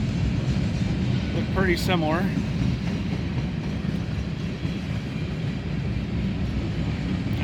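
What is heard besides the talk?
freight tank train passing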